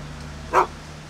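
A single short dog bark, sharp and fairly close, heard once over a low steady hum.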